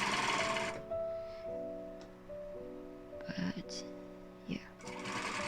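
A home sewing machine stitches fabric for a joey pouch in bursts, its whirring motor starting and stopping between short runs while a person talks quietly nearby.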